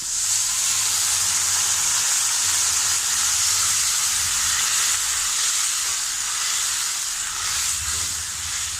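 Cauliflower masala with turmeric and chili powder sizzles hard in a pan just after water is poured in, a loud, continuous frying hiss with steam that holds steady throughout and has no voices over it.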